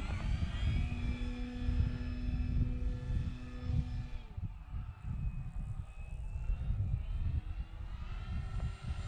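An FMS Pitts RC model biplane flies overhead, its electric motor giving a steady buzzing drone that shifts pitch as the plane passes, with no talk.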